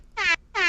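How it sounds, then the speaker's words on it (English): Two loud, blaring air horn sound-effect blasts on a talk show, each about a fifth of a second long, separated by a short gap. "The funny thing about more air horn."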